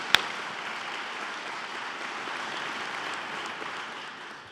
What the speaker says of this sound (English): So she deserves a round of applause